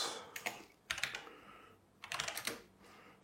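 Code being typed on a computer keyboard: soft, close clusters of rapid key clicks in short bursts separated by brief pauses, quiet and without speech.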